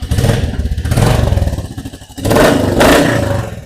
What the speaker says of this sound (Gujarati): એન્જિન અવાજ તમને સંભળાવીને બતાવી દે